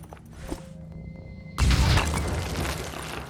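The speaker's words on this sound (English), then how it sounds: "Ended the game with a grenade." A grenade explosion in the strategy game Phoenix Point bursts in with a loud sudden boom that settles into a sustained rumbling, debris-filled roar after a quieter stretch of game ambience.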